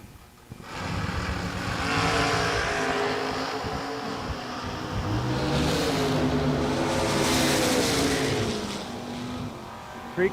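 Drag racing cars, a Chevelle among them, launching down the strip at an event, engines swelling into a loud sustained roar with rising pitch that holds for several seconds before easing off.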